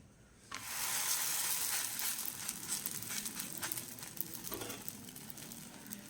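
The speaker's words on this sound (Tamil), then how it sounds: "இப்போ கல் நல்லா சூடாகிடுச்சுங்க. ஸோ நம்ம இப்போ வந்துட்டு பரோட்டாவை இதில் போட்டுடலாம்." Parotta flatbread sizzles loudly on a hot griddle, a steady broad frying hiss that starts suddenly and keeps crackling with small pops throughout, with no talking.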